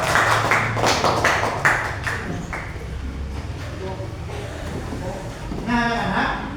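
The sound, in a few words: children clapping hands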